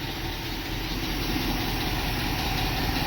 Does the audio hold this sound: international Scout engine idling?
yes